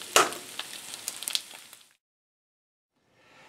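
Meatless bacon and eggs sizzle and crackle in a frying pan, a bright, close spitting sound with sharp pops early on that fades out and drops to near silence as the heat is cut.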